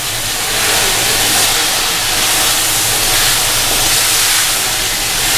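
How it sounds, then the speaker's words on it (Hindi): A kilogram of meat with ginger garlic paste sizzling and frying in a pot for yakhni pulao, a loud, steady broadband hiss that carries on evenly from start to finish with no talk. "इसके साथ ही हमने ये 1 kg जो मीट है हमारा वो भी ऐड करके भूनना है इसमें।"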